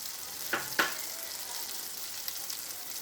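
Tomato puree sizzles steadily in hot oil for bottle gourd curry, a soft continuous hiss with two brief splattery pops near the start, no voices.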